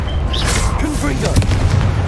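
A loud booming explosion from the Confringo blasting spell in the video game Hogwarts Legacy, a dense low rumble with crackling bursts, close and continuous, with a voice speaking over it.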